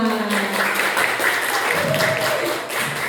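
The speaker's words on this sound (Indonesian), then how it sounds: "Tepuk tangan untuk kita semua." Pupils and teachers at an Indonesian primary school clap together after a prayer, a steady wash of applause with a voice or tonal sound running beneath it.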